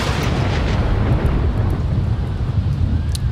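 Storm thunder in The Sims 4 rumbles as a loud, continuous low roar lasting several seconds, with scattered crackles over the top.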